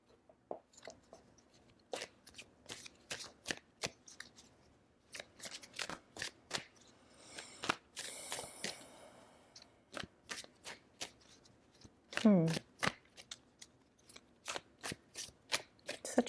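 Tarot cards shuffled by hand in a quiet room, a long run of crisp riffling snaps and soft slides repeating in quick bursts, close and clear, with a brief murmuring voice near the end.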